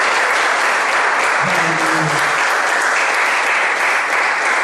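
A church congregation at a Sunday sermon applauds together, a loud, dense, sustained wash of clapping lasting several seconds with no break.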